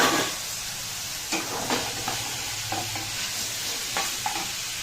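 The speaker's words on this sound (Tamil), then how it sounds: "இந்த ஸ்டேஜில் கொஞ்சம் உப்பு போட்டு நல்லா வதக்குங்க" Capsicum sautéing with salt in a pan for thuvayal: a soft continuous sizzle with scattered scraping stirs of a spatula, close and fairly quiet.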